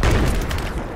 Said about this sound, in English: I'm pulling out the old faithful grenade launcher